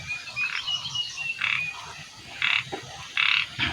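Frogs and toads croak in a rice field at night, bursts of calls pulsing every second or so over a steady insect-like hiss, moderately close with no voices.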